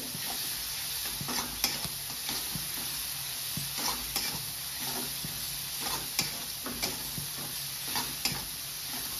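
Crushed green chili, garlic and cumin thecha roasting in a pan for Satara-style zunka, giving a continuous sizzle punctuated by sharp clicks of a spatula stirring against the pan.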